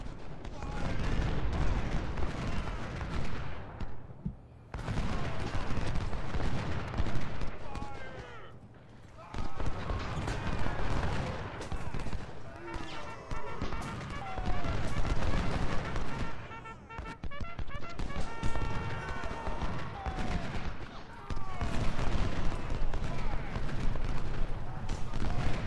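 Cannon blasts and massed rifle fire ring out in a Civil War battle game, with repeated booming volleys and crackling musketry in waves, continuous and dense throughout with short lulls between barrages.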